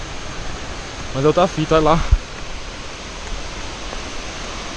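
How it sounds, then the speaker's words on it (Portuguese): Rushing water from a waterfall forms a steady broadband roar throughout, briefly overlaid by someone talking in Portuguese near the middle. "tá o barulho da queda d'água aqui"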